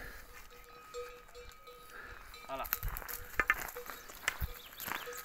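Cows on a farm shuffle and move close by, with brief knocks, rustles and a bell-like clink standing out under a man's speech that runs through most of the passage.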